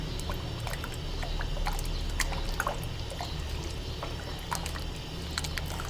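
Liquid being poured and stirred together for raw mango sharbat, a continuous close watery trickle and slosh with small clinks and splashes scattered throughout.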